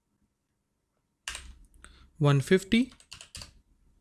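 Fingers tap out an expression on a computer keyboard, producing a quick cluster of close, crisp key clicks after a brief silence. A voice briefly speaks during the typing.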